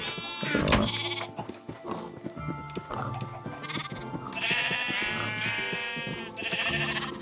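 Sheep in the Minecraft video game bleat several times in quick succession, close and clear, mixed with game sound effects and faint background noise.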